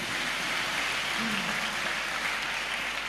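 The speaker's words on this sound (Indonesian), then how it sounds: "kita berikan tepuk tangan yang meriah untuk Gus Miftah" Audience applause for a guest at an Indonesian religious talk, a steady dense patter of many hands clapping throughout, fairly even and continuous with no speech over it.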